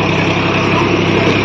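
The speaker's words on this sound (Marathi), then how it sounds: "ट्रॅक्टर हा ट्रेलरचा लोड यशस्वीरित्या घेऊन जात आहे." A Massey Ferguson 855 tractor engine labors steadily while pulling a loaded trailer, a loud, constant drone with no breaks in the engine note and no voices.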